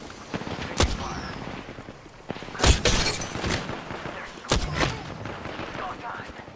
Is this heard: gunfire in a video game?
yes